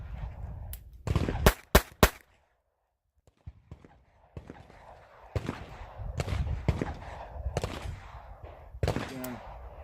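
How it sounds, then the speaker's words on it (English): A handgun is raised from low ready, cocked and fired in rapid succession, giving a tight burst of sharp, loud reports, followed after a short quiet by further scattered cracks and clatter nearby. "I'm going to bring the gun up, I'm going to cock it, and I'm going to fire 3 rounds rapid fire."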